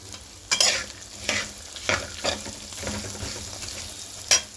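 Tempering frying in a pan for a flattened-rice snack, a steady close sizzle broken by several sharp stirring scrapes and clinks at irregular intervals.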